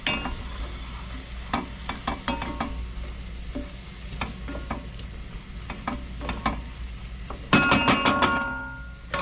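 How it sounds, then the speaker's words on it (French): Balsamic vinegar deglazing a hot pan with stirring: steady sizzle underneath, repeated scraping and clinking strokes from the utensil, and a louder burst of sizzling near the end, no voices. "et on va déglacer avec du vinaigre balsamique, 2 cuillères à soupe, hop, voilà, et on mélange."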